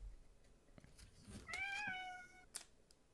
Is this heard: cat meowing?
yes